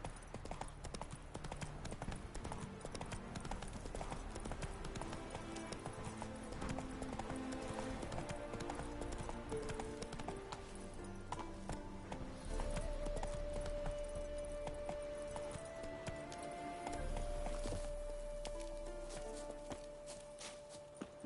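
Horse hooves galloping at a steady rhythmic clip-clop in The Witcher 3, with game music and ambience layered over the continuous pounding.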